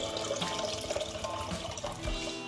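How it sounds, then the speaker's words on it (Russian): Water pours from a pot out through slits cut into an ordinary lid, a steady gushing splash with trickling and dripping throughout. "мы слили воду"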